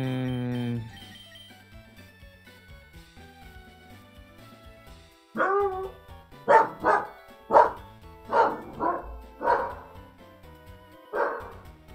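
A puppy barks in a string of short, sharp yaps, close and fairly loud, after a stretch of soft electronic game music that keeps playing underneath.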